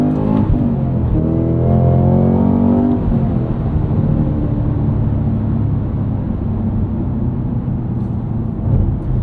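A 2024 Cadillac CT5-V Blackwing's supercharged V8 roars loudly and steadily, its pitch rising as it accelerates, with heavy low rumble throughout.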